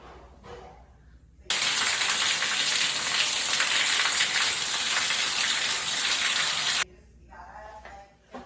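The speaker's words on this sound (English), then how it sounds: "in the bathroom, we've got the super cool shower" A shower runs in an Airbnb bathroom in La Fortuna: a steady, bright rushing hiss of water switches on abruptly, holds evenly for about five seconds, then cuts off sharply, with quiet room sound on either side.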